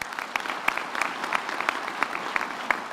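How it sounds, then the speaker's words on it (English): Graduation ceremony audience applauding in a hall, a brisk continuous patter of many hands clapping with sharp individual claps standing out. "Shall we give him another round of applause?"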